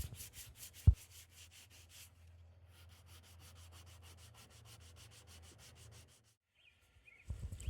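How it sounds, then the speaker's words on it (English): Rough hand sanding of a canoe hull ahead of epoxy, a steady scratchy rasp of abrasive strokes running for several seconds after a sharp knock, then a pause and a brief resumption, close and alone. "I'm going to go ahead and prep the surface by giving it a rough sand."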